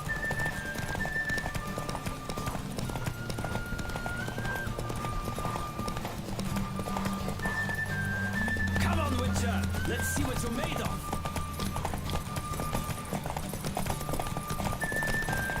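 A horse gallops in a race in the video game Witcher 3, its steady rapid hoofbeats continuous and loud alongside game music, while a person talks over the action.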